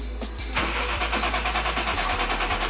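A turbocharged 1JZ engine in a Toyota Supra MK2 with an exhaust leak cranks briefly, catches about half a second in, then settles into a steady, close, throbbing idle with no voices.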